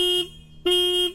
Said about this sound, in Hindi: उसके बाद ये हॉर्न सुनो आप